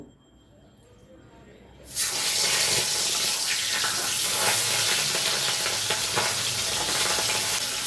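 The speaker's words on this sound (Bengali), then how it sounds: "প্রথমে কড়াইতে তেল দিয়ে মাছগুলোকে লাল করে ভেজে তুলব।" Rohu fish pieces hit hot oil in a wok and burst into a loud, steady sizzle that starts abruptly after a quiet moment and crackles on without letup.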